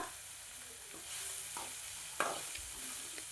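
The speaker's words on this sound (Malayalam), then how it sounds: "അതിൻ്റെ വെള്ളമൊക്കെ നന്നായിട്ട് വറ്റണ വരെ ഒന്ന് ഇളക്കി കൊടുക്കുക" Long beans stir-fried Kerala style in a pan are stirred as their water cooks off, a soft steady sizzle with faint scraping strokes and one sharper clack of the spoon, quiet and close.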